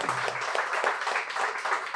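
Audience applause for a singer at a music talk event, a steady wash of clapping with a faint voice early on, moderately loud and continuous throughout.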